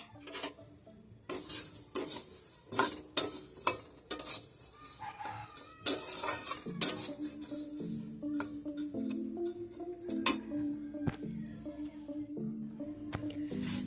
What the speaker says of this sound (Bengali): এদিকে আমি কড়াইয়ের মধ্যে আমি ডালটা হালকা করে ভেজে নিচ্ছি